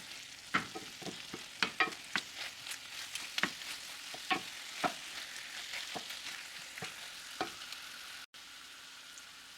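Eggplant adobo seasoned with black pepper is stirred in a pan, with repeated clinks and scrapes of the utensil over a soft low sizzle, fairly quiet and close.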